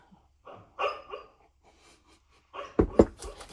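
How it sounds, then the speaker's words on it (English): A sleeping pet dog makes soft, muffled dream barks and breathy huffs, several short low woofs spread over a few seconds, the last two a little louder and close by in a quiet room. "If you hear noises, it's just my doggy. She's dreaming."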